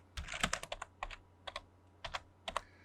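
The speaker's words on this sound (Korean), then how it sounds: "R로 입력하고 엔터 클릭." Computer keyboard keys clack in quick, uneven bursts of several strokes at a time, close and crisp, while a short command is entered in an AutoCAD drafting session; no one speaks.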